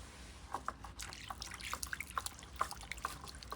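Water trickles and drips over plant roots as soil is rinsed off, with a run of small close splashes and droplets over a quiet, steady background.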